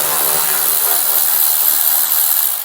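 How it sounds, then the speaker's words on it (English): A power tool or ratchet whirs steadily, loud and close, while removing the front license plate screws, 10mm heads, on a 2022 Ford, one continuous hissing mechanical run. "we'll pull out these screws."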